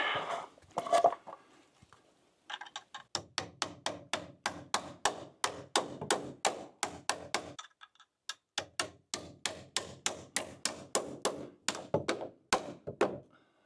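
Fasteners driven one after another through a deck joist into the rim board, a long run of sharp, evenly spaced thunks with a short pause partway, close and loud with no talk.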